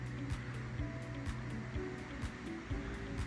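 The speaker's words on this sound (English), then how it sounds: "There's a nice creek down there." Chester Creek flowing below a house in Aston, Pennsylvania, a steady broadband rush of water heard from a distance, continuous and fairly faint, with no voices.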